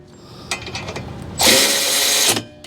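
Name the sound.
Milwaukee battery-powered ratchet snugging brake bracket bolts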